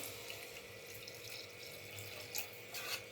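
A glass of water poured into a pan of fried masoor lentils, a steady continuous splashing pour that holds at an even level from start to finish, close up, with no voices.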